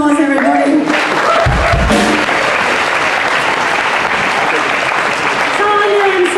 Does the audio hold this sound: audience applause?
yes